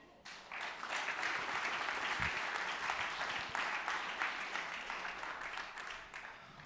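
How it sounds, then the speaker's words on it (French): A crowd applauds the ESTAC Troyes club physiotherapist, Aurélien Gauthier, at a title celebration: dense, sustained clapping that swells in quickly, holds steady and loud, then thins slightly toward the end. "Je vous demande d'applaudir le kinésithérapeute"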